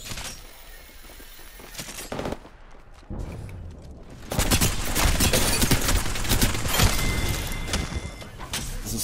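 Gunfire in the Apex Legends video game: bursts of rapid automatic shots, sparse at first, then a dense, loud, sustained volley over the last half.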